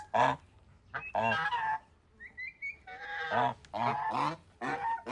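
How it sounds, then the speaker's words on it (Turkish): Turkeys raised in a cellar give loud, harmonic gobbling calls in several bursts spread across the clip, with short quiet gaps between them. "Hindilerin ötüşü çok güzel arkadaşlar."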